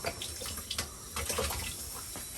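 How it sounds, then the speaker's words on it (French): Water running from a tap into a manual washing machine in Costa Rica, a steady close splashing flow with small gurgles throughout. "elle vient de faire couler l'eau"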